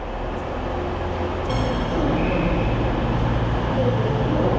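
A train pulls in at a station platform, a steady close rumble of rolling carriages that grows slightly louder, with a brief brake squeal and a thin tone near the start.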